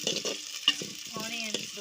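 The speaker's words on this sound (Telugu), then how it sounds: "ఆనియన్స్ దోరగా వేగేంత వరకు బాగా కలుపుకోవాలి." Onions and curry leaves stirred in a frying pan for a brinjal curry, a spoon scraping in short strokes over a steady close sizzle of oil.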